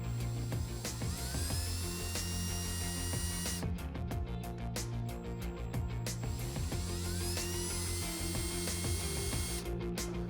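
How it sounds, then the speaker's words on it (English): A power drill whines while boring holes in a 2007-2018 Jeep Wrangler JK dash panel, a steady high motor pitch that rises and falls with trigger pressure, close and continuous with brief ratcheting bursts. "then we'll drill some holes and install the provided screws"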